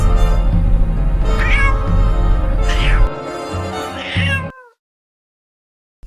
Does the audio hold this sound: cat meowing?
yes